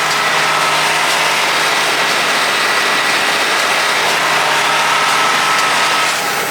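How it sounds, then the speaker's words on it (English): A large square baler pulled by a tractor runs loud and steady, a dense continuous engine and machinery roar heard from close by, with no distinct rhythm standing out and no talk. "Look how much the seat shakes with the plunge of the baler."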